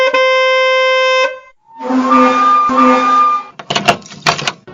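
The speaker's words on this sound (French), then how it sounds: "2 brefs coups de klaxon et le bruit d'une porte à glissière" A steady horn blast, then a rattling, rolling slide with a squealing edge, followed by a few sharp knocks and clunks.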